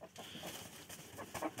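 Soft clucks from chickens come in short, scattered bursts against a quiet, muffled background.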